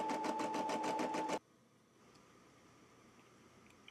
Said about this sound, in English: we're going to stitch out the die line file now, or outline file